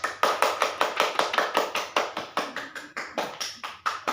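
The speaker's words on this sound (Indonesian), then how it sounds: "Tepuk tangannya." Students in a classroom clapping in unison after a classmate answers, a brisk, even rhythm of sharp claps repeating about four times per second, close and alone.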